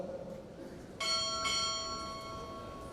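Two close strikes of a ship's bell sound at a navy recruit training pinning ceremony, clear ringing tones with a long shimmering decay in a hushed hall.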